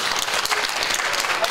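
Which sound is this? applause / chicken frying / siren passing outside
applause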